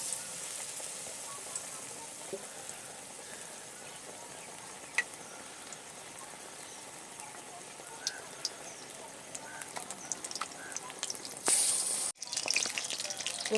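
Gram-flour-coated pumpkin flowers fry in hot oil with a steady, soft crackling sizzle throughout, a few sharper pops and splatters near the end.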